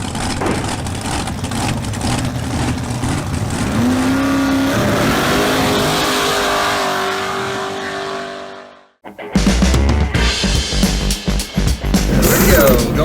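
A 1969 El Camino Super Sport with an LS 427 engine and Tremec transmission drives, its engine droning steadily and loudly, then cutting out briefly before rougher, louder engine roar returns, with faint voices underneath.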